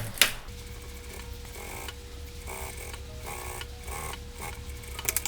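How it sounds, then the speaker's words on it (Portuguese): A sewing machine topstitches the side seam of a fabric beach box cosmetic bag, its needle running in short bursts with pauses between, close and moderately loud. "Aqui com um pé de máquina eu vou fazer um pesponto."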